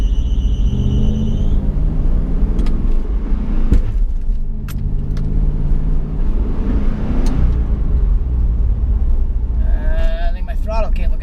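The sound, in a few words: LS-swapped Nissan 350Z engine driving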